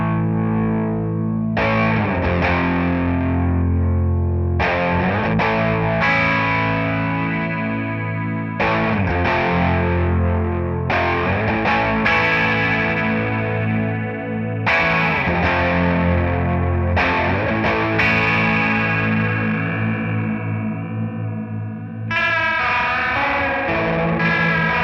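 Electric guitar from a 1978 Ibanez Iceman run through a 1976 Roland DC-50 Digital Chorus, distorted sustained chords and riffs with a swirling, shimmering modulation, played continuously without talk.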